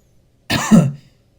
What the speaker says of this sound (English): don't include that cough, by the way.